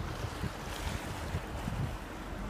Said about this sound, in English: ocean's a little bit rough.